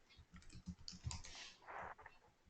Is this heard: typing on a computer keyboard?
yes